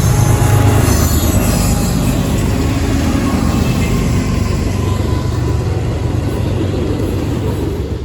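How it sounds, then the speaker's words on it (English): A BNSF freight train passes at speed, a loud, dense roar of wheels on rail with metallic squealing that carries on unbroken and eases slightly toward the end. "One of my few times catching a BNSF train at speed this year."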